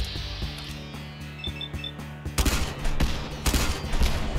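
A Rat Runners Arsenal shoulder-mounted machine gun fires in Fallout 4, rapid bursts of dense gunfire that grow louder and heavier partway through, close and continuous.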